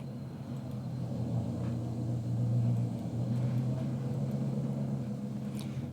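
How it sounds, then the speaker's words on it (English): A train starts to pull forward, a continuous low engine rumble that swells slightly and then holds steady, close and alone. "This train will start to move forward."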